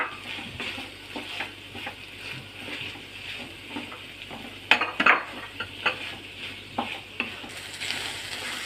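Capsicum sautéing in a pan, a steady close sizzle with a spoon repeatedly scraping and clinking against the metal as it is stirred.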